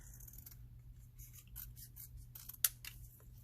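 Scissors snipping through a die-cut paper box, a few light crisp cuts close by with one sharper snip near the end, quiet and without talking.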